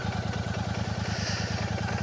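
A motorcycle engine idles close by while being parked on a ride near Kulia in Howrah, West Bengal, a steady, fast, even thumping pulse running throughout without pause.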